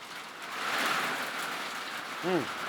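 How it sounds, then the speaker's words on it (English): A steady, hissing wash of rain falls throughout, with a brief tonal sound near the end. "Oh, here comes the rain, y'all."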